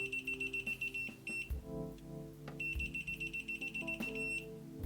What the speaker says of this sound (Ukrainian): кліщі починають пищати та сигналізувати індикатором